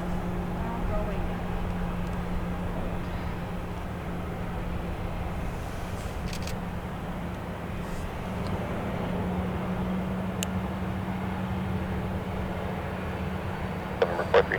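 A Southwest Boeing 737-700 jet takes off, its engines making a steady, broad roar that holds throughout, heard from inside the cabin under faint radio chatter.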